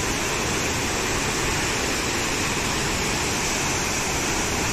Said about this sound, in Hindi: बहुत जोर शोर से आवाज़ कर रहा है लेकिन पानी गिरने का।